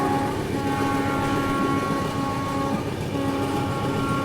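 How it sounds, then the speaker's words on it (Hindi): Jammu Tawi Humsafar superfast train running through Betul station at fair speed, heard from on board as a loud, continuous rumble of wheels and carriage noise with a steady hum, no talk. "और ये अभी स्किप कर रहे हैं बैतूल रेलवे स्टेशन को और ठीक ठाक रफ्तार में स्किप जो वो हो रहा है।"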